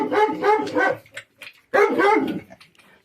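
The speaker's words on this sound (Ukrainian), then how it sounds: "нащо ти на неї гавкаєш?" A dog barks close by in a home setting, two bursts of loud, rough barks with short gaps and a small yip between them.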